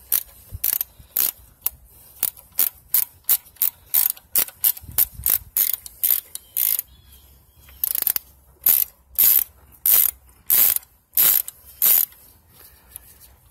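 A ratchet fitted with a 10 mm socket turns valve cover bolts on a 3.8L Jeep Wrangler JK, producing loud, close, rapid clicking bursts in a steady rhythm with short gaps, no voices.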